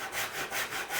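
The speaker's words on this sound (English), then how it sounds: "now I can come and start the kerf on the near side" A hand saw cutting a kerf in wood for a sliding dovetail, heard as about four quick rhythmic rasping back-and-forth strokes, close and fairly soft.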